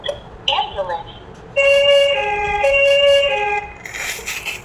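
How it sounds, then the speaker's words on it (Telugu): A talking flash card reader toy plays a bright electronic two-tone ambulance siren wail for a few seconds, starting after a brief bit of talk and ending under more speech. "అంబులెన్స్."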